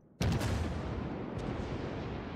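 A warship's guns fire in the naval game World of Warships, one sudden heavy boom that rolls into a long, loud rumbling tail filling the rest of the moment, with no voices.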